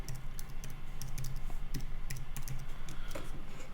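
Fast typing on a computer keyboard, a continuous patter of close, crisp key clicks at an uneven rhythm over a low steady background hum, with no speech.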